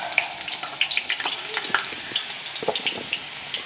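Potato pieces fry in hot white oil for a vegetarian aloo dum, giving a steady close sizzle dotted with sharp crackles and pops throughout, with no talking.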